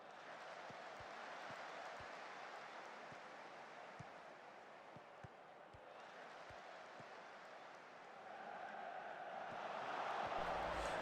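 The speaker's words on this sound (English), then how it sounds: "Get the fans to cheer for us, maybe?" Simulated stadium crowd in Football Manager 2022 keeps up a steady, dense roar of cheering and applause that swells louder toward the end.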